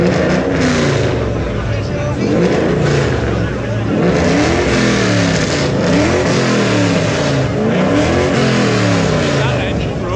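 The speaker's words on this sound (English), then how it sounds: "That engine roar." A loud American car engine at an outdoor car show in Port Adriano, Mallorca, revving and roaring steadily for the whole stretch, with crowd chatter and voices mixed underneath.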